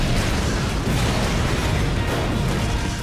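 A cartoon weapon's explosion effect: dense, loud, roaring noise that fills the whole stretch without a break and without voices.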